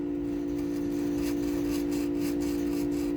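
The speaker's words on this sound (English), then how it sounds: "just kind of help me keep track of what I'm filing" Hand file rasping across the frets of a Harley guitar neck during fret crowning, a steady continuous scraping stroke with a constant underlying hum, fairly faint and close.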